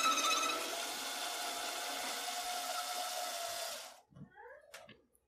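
Sandpaper wrapped on a rod spins inside a Mannlicher 1888/90 rifle bore, a steady loud whirring grind lasting about four seconds before cutting off, followed by a few faint clicks and handling noises.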